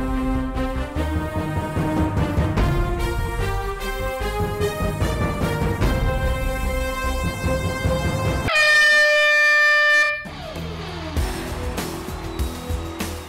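A loud air horn blares on a TV game show set, sounding over bright upbeat music and then cutting off sharply before the music returns.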